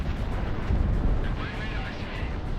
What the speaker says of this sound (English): Guns, guns, guns.